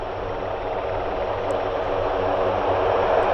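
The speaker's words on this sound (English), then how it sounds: "I can hear the other Osprey" Osprey tiltrotor aircraft engines at Mildenhall airfield, a steady broad roar that holds constant and swells slightly, heard from a distance with no other sounds over it.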